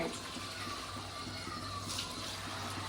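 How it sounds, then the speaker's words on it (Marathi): Water pouring steadily into a cooking pot of rice for chicken pulao, a soft continuous splashing rush heard faintly with a low background hum. "तुमच्या जेवढे राईस आहेत त्या हिशोबाने पाणी टाकायचं."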